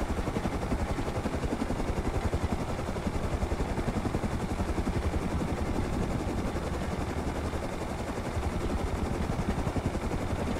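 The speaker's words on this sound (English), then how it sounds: "The heli's still there." A helicopter in the survival game Rust drones steadily and loudly throughout, its rotor chop pulsing in an even rhythm with no letup and no voices.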